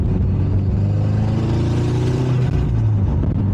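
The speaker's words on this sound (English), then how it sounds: "do you guys hear this car, this Subaru that's driving through the neighborhood being a menace?" A modified Subaru WRX with full bolt-on upgrades and external wastegates drones and revs steadily at close range through a neighborhood, its pitch rising and falling as it drives past, loud throughout.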